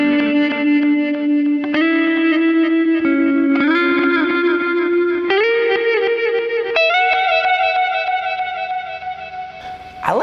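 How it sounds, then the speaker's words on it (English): Electric guitar playing sustained chords through a Horizon Devices Flux Echo pedal set for reverse delays and modular reverb, each new chord swelling in with a rising, washy ambient tail and a steady, loud sound with no talking. "Now remember, this is the one with the reverse delays and the modular reverb."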